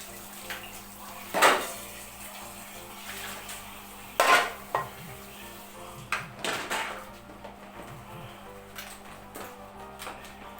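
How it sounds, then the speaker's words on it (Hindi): Dishes, pots and pans being washed in a home kitchen: scattered sharp clanks and clinks of metal and crockery, a few loud knocks among softer rattles, with light water sounds between. "बर्तन धो रहे हैं।"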